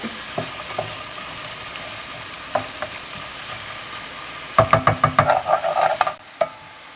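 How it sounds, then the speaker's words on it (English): Onions browning in a frying pan, with a steady background sizzle and a burst of scraping, clattering stirring strokes near the end, no talking. "I'm just going to let the liquid come out of these onions. I'm going to let them brown a little bit."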